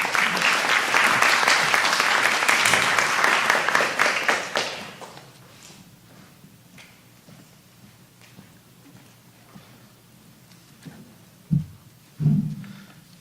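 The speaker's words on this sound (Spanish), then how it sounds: "Lo recibimos con fuertes aplausos." At an international science, innovation and technology convention, the audience welcomes a congressman with loud, dense applause. It lasts about four seconds and then dies away into a quiet room, broken by a couple of soft thumps.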